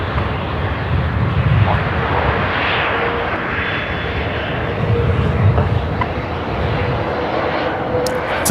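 Philippine Airlines Airbus A321neo jet arriving from Manila at Brisbane Airport, a loud sustained engine roar with broad rushing noise that swells and eases slightly, with no voices over it.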